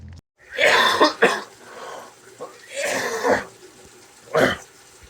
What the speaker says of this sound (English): As you can hear, I still have my congestion, my cough.